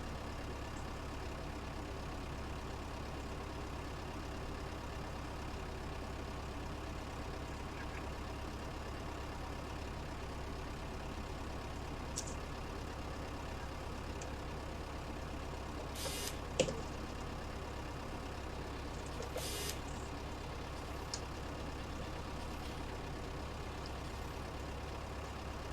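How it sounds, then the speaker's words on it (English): A farm tractor engine runs at a steady low idle, a constant rumble with a couple of brief sharp clicks partway through and no talking. "Our tractor is now working"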